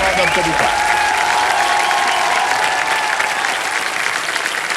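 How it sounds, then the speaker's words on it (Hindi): A studio audience on the Kaun Banega Crorepati quiz show breaks into loud, sustained applause, a thick continuous roar of clapping with a bright musical tone sweeping beneath it. "एक बार फिर जोरदार तालियां बज जाए इनके लिए"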